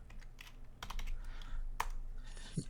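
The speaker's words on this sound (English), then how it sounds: "you're going to go to command prompt, type in ipconfig," A run of quick, close keystrokes on a computer keyboard as a short command is typed, with a few sharper clacks, quiet overall.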